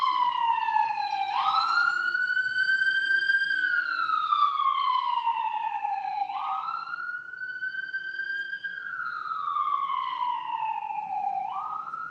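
A loud wailing ambulance siren sweeps up and down in long, repeated cycles, steady and close, with faint background rumble.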